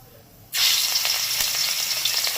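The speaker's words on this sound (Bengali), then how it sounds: "এই যে মাছগুলোকে এবার এক এক করে ভেজে নেব" Sudden loud sizzle of katla fish pieces dropped into hot oil, bursting on after a quiet moment and continuing as a steady crackling hiss.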